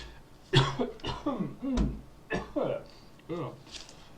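A few sharp coughs break up a man's speech nearby, mixed in with his talking.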